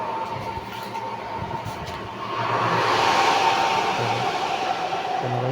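A restored Union Labamatic washing machine motor runs on test, a steady whirring hum that swells louder partway through, with faint knocks underneath and no voices.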